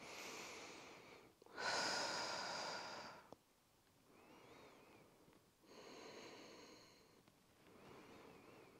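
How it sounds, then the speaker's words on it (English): Slow, deep breathing during a beginner yoga session, a long loud inhale followed by quieter, drawn-out exhales and breaths in a calm, close setting without talk. "Breathing deeply."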